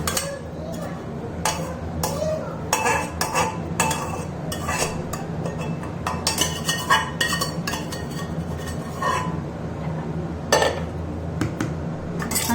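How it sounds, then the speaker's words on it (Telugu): A spoon stirs smashed chicken into broken wheat in a pot for Hyderabadi haleem, making close, irregular clinks and scrapes against the metal that repeat throughout. "ఈ చికెన్ బాగా స్మాష్ చేసి పెట్టుకున్నాం కదా, దీన్ని ఆ గోధుమ రవ్వ దాంట్లో మిక్స్ చేసుకోవాలన్నమాట"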